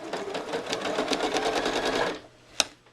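A sewing machine stitches across a quilt in a fast, steady run of needle strokes for about two seconds, then stops, followed by a single sharp click.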